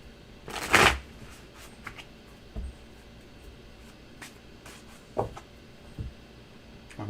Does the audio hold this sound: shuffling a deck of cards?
yes